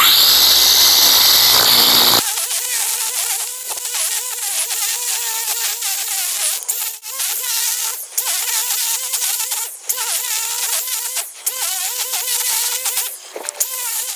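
A string trimmer whines loudly and steadily up close as it cuts along a lawn edge, its high buzzing pitch dipping briefly now and then as it bites into grass.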